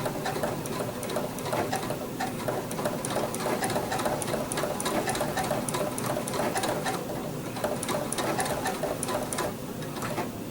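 Sewing machine running steadily while stitching quilt binding with a blanket stitch, a rapid continuous needle clatter at close range, without pause or talk.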